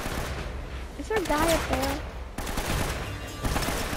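Gunfire in Uncharted: Drake's Fortune, a steady run of rapid shots crackling under the battle noise while players talk over it.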